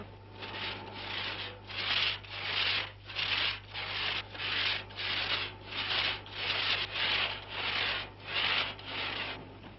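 Steady rhythmic back-and-forth rasping of a hand saw cutting wood, about a dozen strokes at an even pace, close by with a low hum underneath.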